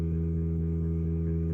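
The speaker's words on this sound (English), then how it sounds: "that's our terrible MIDI bass guitar" A MIDI bass guitar turned up plays a steady sustained low note, droning evenly for a brief moment with no other sounds or voices.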